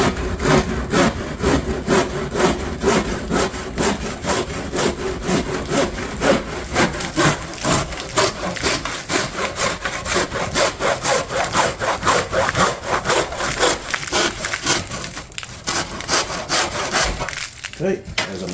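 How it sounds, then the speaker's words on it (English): A hand saw cuts a mitre through plaster cornice with fast, even back-and-forth strokes, loud and close, keeping a steady rhythm before slowing and stopping near the end. "And we'll cut the mitre."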